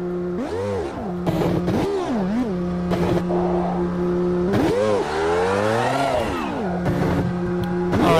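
Race cars in the Automobilista racing video game approach and scream past one after another, with engines revving and rising and falling in pitch as they pass close by.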